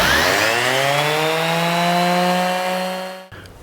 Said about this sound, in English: all I'll do is sand it up and the top will be done